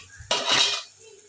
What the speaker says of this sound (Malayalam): ഇനി നമുക്കിതിലേക്ക് മുട്ട ഒഴിച്ചു കൊടുക്കാം